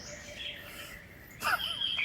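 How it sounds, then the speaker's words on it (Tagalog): A parrot gives a couple of sharp, bright chirping calls near the end, following a faint, thin whistle-like tone over quiet background noise. "Parot ang tawag dyan."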